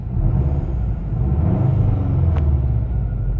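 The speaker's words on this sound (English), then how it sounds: "I'll give it some revs here so you can hear it." A Saab 9-2X Aero engine with an aftermarket exhaust rumbles low and steady, rising slightly as it's revved, with a deep, muted exhaust tone throughout.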